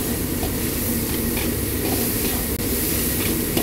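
Garlic, ginger and scallion sizzle in oil with a little chili bean paste over low heat, a steady dense hiss and crackle with no pauses and no one talking.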